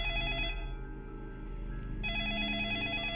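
Phone ringing in the video game 428: Shibuya Scramble, an electronic ringtone trilling in two bursts with a short pause between, clear and steady against quiet game music.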